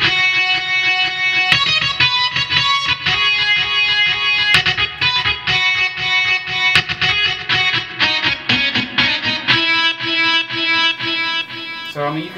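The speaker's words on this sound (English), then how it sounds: "I'm gonna just throw some delay on this too." A bright, harmonically rich synth plays a sustained chord progression with repeating echoes trailing each note, loud and continuous without any voices.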